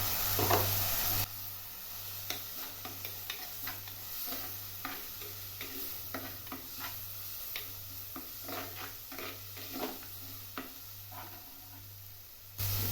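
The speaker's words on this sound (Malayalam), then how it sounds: "സവോള ചെറുതായിട്ടൊന്ന് വഴന്ന് വന്നിട്ടുണ്ട്" Onions sauté in a pan for a Kerala-style prawn and mango curry, a continuous low sizzle broken by frequent scraping and clicking stirs over roughly thirteen seconds, with no voices.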